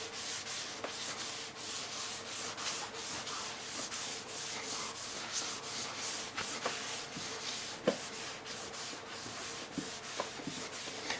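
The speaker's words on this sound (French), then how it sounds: "Et on frotte." Hand rubbing and polishing the surface of a marble sculpture, a steady dry scratchy rubbing with rhythmic strokes and a few sharper ticks, close and alone.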